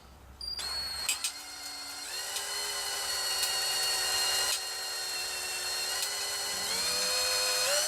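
A small .093 drill bit bores a hole through a transmission valve body plate in a shift kit job, a high whining spin that starts abruptly, rises in pitch and then holds steady, close and alone.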